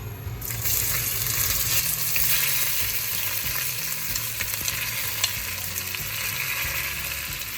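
Onions and green chili fry loudly in hot oil for mutton biryani, a dense continuous sizzle close to the pan, with the spoon stirring and scraping through it and no voices.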